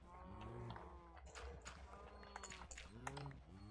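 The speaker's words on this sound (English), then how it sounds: "I really do need to move these cows and these sheep from being underground." Minecraft cows moo several times on a game soundtrack, alongside soft clip-clop steps and other animal noises, fairly quiet.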